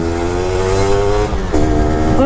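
Yamaha F1ZR two-stroke motorcycle engine revving hard through second and third gear while cornering, a loud close buzzing whine that climbs in pitch, drops at a gear change, then climbs again.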